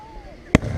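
A single loud firework burst from a finale display goes off suddenly after a quiet stretch, a sharp broadband boom followed by a lingering crackling rumble as the sparks fall.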